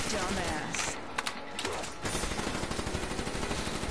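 The Death Machine minigun in a video game fires a dense, continuous stream of rapid shots. It stays loud for the whole stretch with only brief dips.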